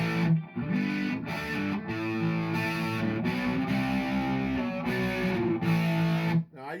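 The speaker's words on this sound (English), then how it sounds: "Now I use my chorus very sparingly. It's more of a background type sound." Electric guitar played through a chorus pedal in a looper-controlled pedalboard with delay, sustained chords and notes ringing steadily with shimmering modulated tone, loud and close throughout with brief pauses between phrases.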